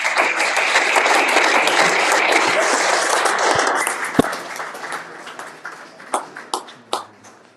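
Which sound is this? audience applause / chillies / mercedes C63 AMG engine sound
audience applause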